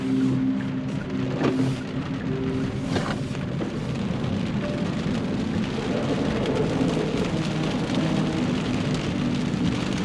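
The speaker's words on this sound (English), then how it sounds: "a quick little acceleration test and see how this car handles 201 horsepower only to the front wheels in rainy conditions such as this." Steady rain drumming on a 2024 Hyundai Kona EV, its 201-horsepower front-wheel-drive electric motor accelerating hard on a wet road, with a continuous broadband wash of rainfall and tyre spray filling the cabin.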